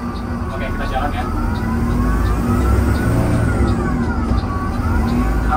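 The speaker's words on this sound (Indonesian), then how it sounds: "sekarang kita coba kalau bus ini lagi jalan, mengeluarkan suaranya sekencang apa sih?" A Mercedes-Benz 1623 tour bus engine drones loudly and steadily from just beneath the cabin while driving, a deep rumble with rising and falling engine tone as it accelerates.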